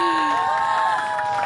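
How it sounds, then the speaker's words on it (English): Brief crowd cheering and whooping from a sound effect played on a TV show, loud and steady, cut off after about a second and a half. "I think we've got more claps."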